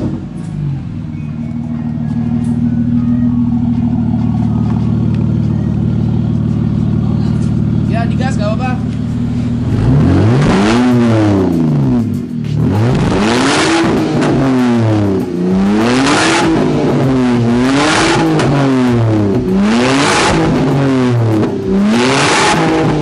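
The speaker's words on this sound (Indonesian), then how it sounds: "Kalian gimana suara knalpotnya kita yang rombak ini semua?" A BMW E93 325i idles with a deep rumble, then its loud modified exhaust revs repeatedly in rising and falling bursts, close by.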